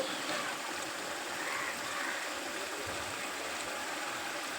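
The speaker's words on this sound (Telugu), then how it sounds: "చూడండి ఫ్రెండ్స్ చాలా బాగా ఉడుకుతుంది కదా" Raw banana curry boils in a pot, making a steady close bubbling and hissing wash that continues evenly without pause.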